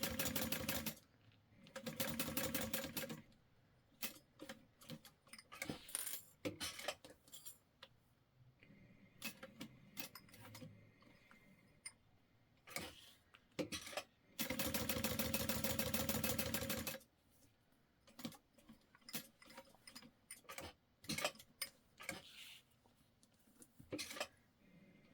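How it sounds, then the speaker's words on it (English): A sewing machine stitches a box through a clear plastic backpack at a long stitch length, with two sustained, steady runs of mechanical whirring separated by scattered clicks and handling taps, and no talk. "I'm gonna up my stitch length to 5. And then I'm going to sew a box around here"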